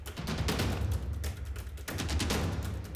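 A rifle shot fired at a broadside black bear about 60 to 70 yards away during a low-light bear hunt, heard as a dense, continuous booming rumble filling the whole stretch rather than one crisp crack.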